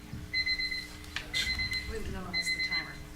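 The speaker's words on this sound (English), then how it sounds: "it's the timer" A meeting timer beeps in a city council chamber, two bursts of rapid high electronic beeping separated by a short pause, moderately loud, with people murmuring and talking underneath.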